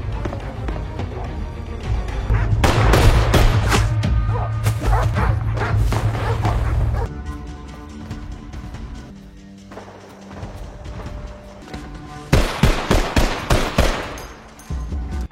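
An action film shootout between gangsters has bursts of gunfire and rapid machine-gun volleys, loud and close, mixed with a dramatic music score and other action noise.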